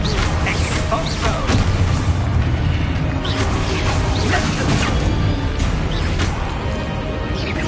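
A loud Exposo explosion spell in Hogwarts Legacy, dense crashing booms and whooshing debris over busy combat noise, sustained and close throughout.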